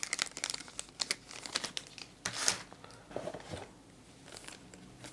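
An empty plastic bag from a Canon EOS M50 Mark II kit box crinkles and rustles in close, irregular bursts, with a louder crunch midway and quieter handling toward the end.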